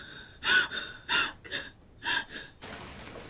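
Several sharp, quick gasping breaths in a broken rhythm, close and urgent, followed by a softer breathy exhale.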